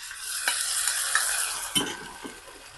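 Black bean sauce stirred into a pan over low heat for steamed fish tail, a soft sizzle with a few distinct utensil scrapes, close up with no voices.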